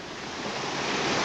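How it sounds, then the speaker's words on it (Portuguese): A river rushes past in a steady broadband roar that swells slightly over a brief moment, loud and close, with no voices. "Esta água aqui do rio"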